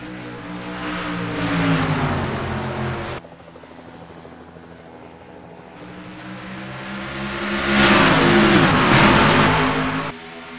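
Race cars roar past in a Piston Cup stock car race at Rockingham Speedway, the engine noise swelling and fading in two loud pass-bys with sweeping pitch shifts.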